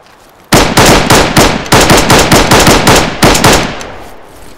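Automatic gunfire in the military video game Arma 3, a loud close burst of rapid evenly spaced shots lasting several seconds before tailing off, no talk.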